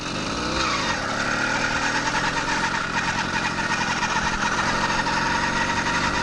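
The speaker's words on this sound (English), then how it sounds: "Okay, now the bike is just idling." A small two-stroke gasoline engine on a motorized bike idles steadily, a continuous buzzing putter that stays loud and close throughout with no voices.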